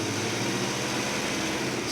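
A 1965 Malibu SS small block 350 engine runs steadily, a dense, close, even rumble with a broad hiss on top and no talk.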